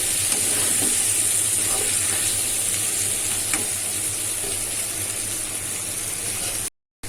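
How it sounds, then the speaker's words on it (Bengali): Sliced pointed gourd (potol) sizzles as it fries in a pan, a steady close-up hiss and crackle that runs without a break until a sudden cutoff near the end. "আর এই পাশে আমি পটলটা ভাইজা কষাই নিচ্ছি"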